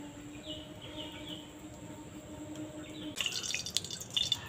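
Cooking oil poured into a wok for a Bengali brinjal fry: a soft, steady background hum, then a burst of light crackling and dripping splashes near the end.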